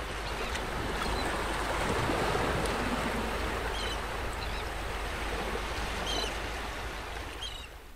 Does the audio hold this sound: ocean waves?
yes